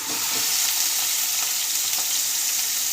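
Chicken pieces frying in oil in a pan, giving a loud, continuous crackling sizzle with faint scraping taps scattered through it and no speech.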